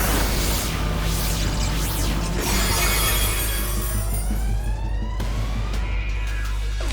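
Explosion move in a Pokémon battle video game, a loud synthetic blast with shattering, crackling noise and sweeping tones running the full length alongside game music.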